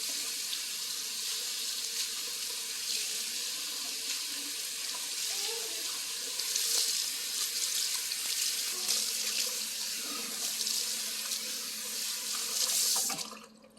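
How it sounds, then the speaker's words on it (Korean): Cool water runs steadily from a salon faucet while hair is rinsed, a continuous close splashing hiss with slight shifts as the stream hits the hair, stopping abruptly at the end. "조금은 시원한 물로 머리를 헹궈준다고 말씀을 드려야 돼요"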